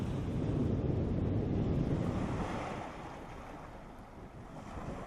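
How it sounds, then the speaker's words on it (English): Water gushes from KRS Dam in Mysore, nearly full after monsoon rains, as a loud continuous roar of rushing water mixed with wind buffeting the microphone, easing slightly toward the end, with no voices. "The dams are gushing with water."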